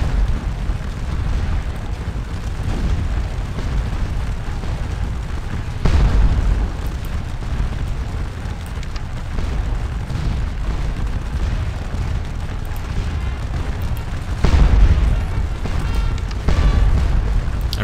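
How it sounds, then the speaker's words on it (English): Cannon artillery fire from a Waterloo real-time strategy battle game, a continuous rumble of booms and explosions with louder blasts standing out near the middle and end, no talking. "I don't want to get too close to those cannons"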